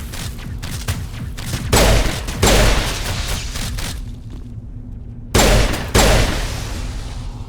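Loud bursts of video game gunfire, with heavy shots and booming impacts coming in several separate volleys, a short quiet gap between them.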